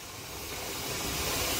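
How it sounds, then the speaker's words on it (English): Steady hiss of steam venting from a pressure canner loaded with beef stew meat, a continuous broadband rush that builds slightly louder over the clip, close and alone with no talk. "You can see steam coming, well, I can see steam coming out of it"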